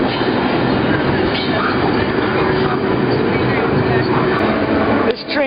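A freight train rolls steadily along rails on a bridge, a loud continuous rumble and clatter of wheels close by, with a few sharper knocks near the end.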